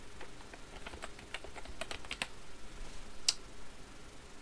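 A computer keyboard clatters as a short text letter is typed into a document, a steady run of light, close key clicks at an uneven pace, ending with one sharper, louder keystroke.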